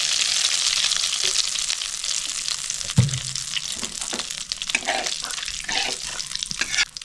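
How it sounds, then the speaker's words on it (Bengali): Oil left over from frying prawns sizzles in a pan with a continuous crackling hiss, marked by a sharp utensil knock near the middle and scattered small clatters. "চিংড়ি মাছ ভাজা তেলে আমি একটু তেল দিয়ে দিচ্ছি।"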